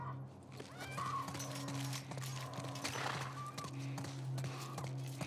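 Horse hooves and snorts in The Last of Us Part I, with a steady low rumble, scattered hoof taps and occasional whinny-like calls running through the whole stretch at moderate level.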